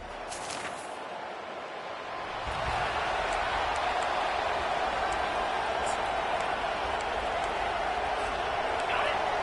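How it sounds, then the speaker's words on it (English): Loud, steady roar of a large college football crowd at Jordan-Hare Stadium, swelling a little after the first couple of seconds and sustained throughout, with a broadcast commentator's voice over it. "They challenge this crowd to bring the energy, and I'd say they're doing that."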